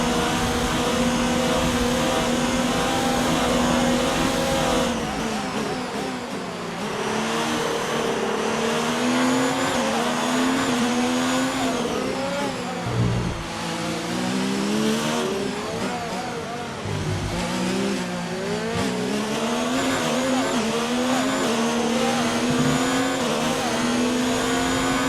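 A Formula 1 race car engine in a video game, screaming through the final lap of the Spanish Grand Prix with high whining revs that rise and fall through gear changes and corners, loud and continuous throughout.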